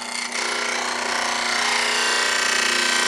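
Bench grinder grinding the nose of a woodturning cutting tool, a loud continuous close-up grinding whine with rasping texture that holds steady throughout, with no talking.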